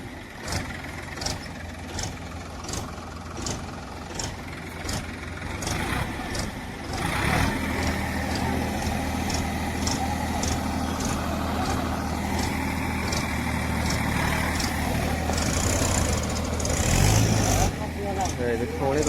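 A tractor engine turns over and settles into a steady, loud, low idling rumble in a field, with voices talking over it throughout.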